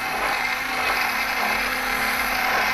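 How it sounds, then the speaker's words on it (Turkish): A special sauce for potato salad is whisked in a bowl with a rapid, continuous scraping whir that holds steady and fairly loud throughout, with no talking. "Şöyle güzelce biraz daha çırpıp kenara alıyoruz."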